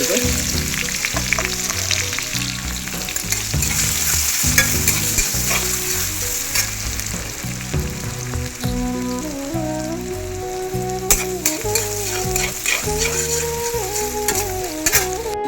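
Chopped onion with a bay leaf sizzles loudly in hot oil for a chicken curry, with a steady crackling fry and repeated scraping, stirring strokes of a spatula against the pan, close up and continuous.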